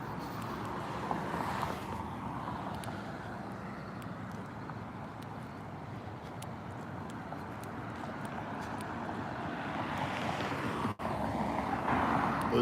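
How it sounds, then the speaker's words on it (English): A steady, continuous truck engine rumble nearby on a street, idling and driving, with broadband road and wind noise throughout and no talking. "There's an engine sound right now. This truck is driving out right now."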